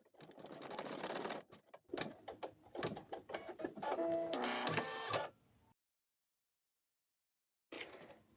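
A sewing machine stitches the legs of a cloth doll, running in short rapid whirring bursts with stops between them, then falling silent before a final brief burst.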